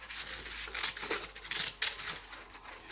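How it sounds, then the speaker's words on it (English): Scissors cutting paper around a crab shape: quiet, close snipping and crisp paper rustle in a steady run of short cuts, with no talk. "So just cut the rest of the way round."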